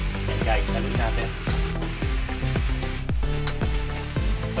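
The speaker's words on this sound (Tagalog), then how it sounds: "And guys, haluin natin." Chicken adobo sizzles loudly in a pan while being stirred, with a steady frying hiss and repeated scraping strokes of the spoon throughout.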